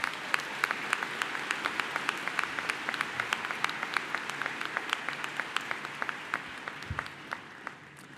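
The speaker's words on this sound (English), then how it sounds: "Can we give him one more round of applause?" A commencement crowd claps for a university graduation speaker, a dense steady wash of applause with a few sharper individual claps standing out, sustained and gradually easing toward the end.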